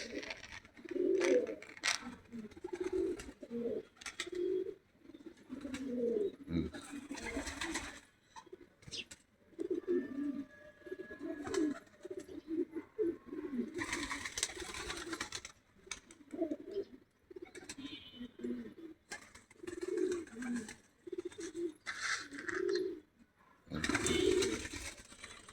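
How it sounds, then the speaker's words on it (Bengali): Racing pigeons coo in repeated low, throaty bursts close by, with some wing flutters and scattered chirps between the calls. "এই যে আমার রেসার, এই যে রেসার একজোড়া উঠতেছে রেসার"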